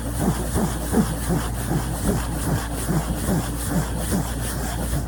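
Close-up human voice mimicking an overloaded washing machine, producing a steady rhythmic thumping and rumbling drone that repeats about twice a second without pause.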